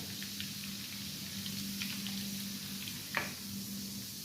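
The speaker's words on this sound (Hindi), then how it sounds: "अब हम इसमें बारीक कटा हुआ लहसुन ऐड कर देंगे। लहसुन को अच्छे से ब्राउन कर लेंगे।" Finely chopped garlic fries and browns in hot oil in a pan, a steady, faint, close sizzle with a low hum underneath and a single sharp click or tap near the end.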